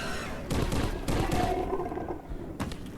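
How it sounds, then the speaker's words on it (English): An explosion in the VR game Crashland erupts as a booming, rumbling blast with scattered thuds and crackles, fairly close, followed by a few later impacts and no talking. "That explosion was a bit too close."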